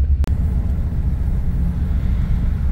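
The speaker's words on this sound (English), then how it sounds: "You can hear the air leak on it." A parked 5-ton military 6x6 truck with an air leak, heard as a steady hiss over the heavy, loud low rumble of the idling engine, with one sharp click near the start.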